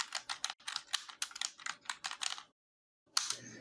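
Quick, close clicks on a computer keyboard as a command is typed, a busy run of keystrokes, a brief pause, then a final firmer press like the enter key.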